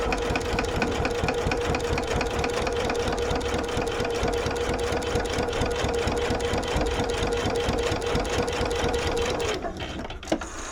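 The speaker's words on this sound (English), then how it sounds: "now I'm going to sew up right side of the bag again with my 1/2 inch seam allowance" An electric sewing machine runs in one continuous burst, stitching the seams of a reversible fabric bag with a half-inch seam allowance. Its rapid, even, close mechanical chatter stops abruptly near the end.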